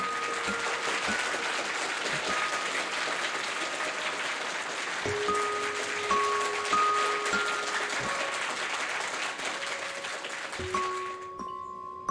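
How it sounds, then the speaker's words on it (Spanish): An audience at a campaign presentation event claps steadily for around twelve seconds, a fairly soft, even wash of hands with light background tones beneath and a sudden cut at the end. "Un fuerte aplauso a Sanem."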